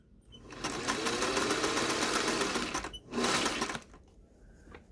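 A sewing machine runs in a steady close whirring burst while stitching an underarm gusset into a garment, stops briefly, then runs a second shorter burst before falling quiet.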